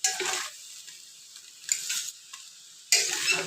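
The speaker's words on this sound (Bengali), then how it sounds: "এইভাবে হালকা হাতে মিশিয়ে নেব বিনস গাজর" Beans and carrots in sauce stirred in a pan, with three bursts of scraping and sizzling separated by near-silent pauses, close and moderately quiet, no voices.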